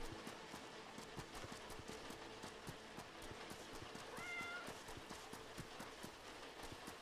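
In the Kynseed video game, a cat meows once, briefly and faintly, midway through, over a steady patter of clip-clopping steps and light background ambience.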